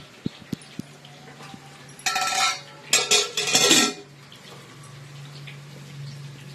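Lid lifted off a pot of freshly cooked chicken biryani made in a pressure cooker, a few light taps followed by a cluster of loud metallic clanks and scrapes, then quiet.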